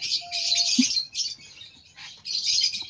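Mutation lovebirds, including green Fischer's opaline ino, chirp in rapid shrill bursts close by, three clusters of bright squeaky calls with short gaps between them.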